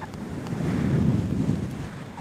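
Strong wind whips a wild ocean on a sandy beach, a loud, rough rumble of gusts buffeting the microphone with surf blended in and no voices.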